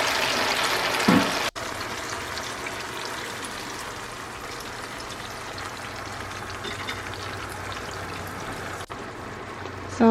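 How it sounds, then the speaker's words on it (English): Cooking liquid is poured over baked lemon and herb chicken in a pan, making a steady hissing, splashing wash that runs for several seconds with one brief break, close and fairly loud. "So what I'm going to do now is pour some of this liquid"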